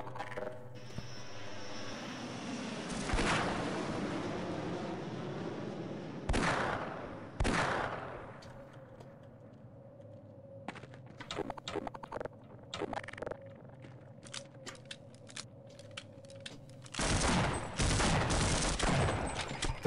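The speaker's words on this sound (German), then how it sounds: "Drei Schuss aus der Shotgun braucht der, ne?" Shotgun blasts in the video game Half-Life: a few loud, heavy booms spaced several seconds apart, with a final sustained roaring burst, over a low droning game background.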